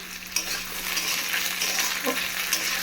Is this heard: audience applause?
no